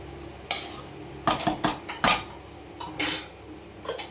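A metal spoon scrapes and clinks against a pressure cooker while food is stirred, several short clattering strokes in a loose rhythm, close and fairly loud.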